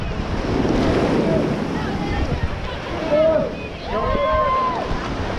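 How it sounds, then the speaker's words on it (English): Ocean surf at a Hawaii beach rolls and washes in under strong wind buffeting the microphone, with people calling out and chatting over the water. "And the waves are nice too."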